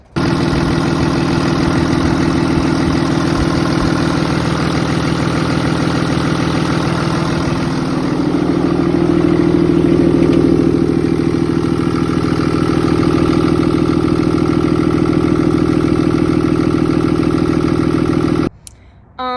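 A 6.7 Cummins diesel engine, just back together after a water pump repair, idles steadily with a deep low rumble and a constant mechanical clatter. The sound is loud and continuous for about eighteen seconds and then cuts off abruptly.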